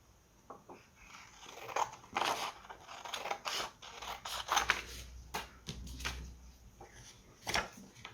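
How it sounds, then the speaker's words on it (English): Scissors cut a triangular pocket into a cardboard toilet paper roll, giving irregular, close crunchy snips and crackles of varying loudness with short pauses between them. "I'm just marking out some points to make it easier to cut the triangle."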